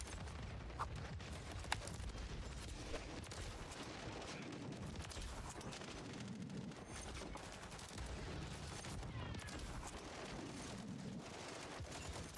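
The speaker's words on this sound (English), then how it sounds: "Now they're using shotguns." Rapid volleys of game gunfire, including shotgun blasts, in Call of Duty: Modern Warfare III multiplayer, with dense overlapping shots and explosions filling the whole stretch at a steady, loud level.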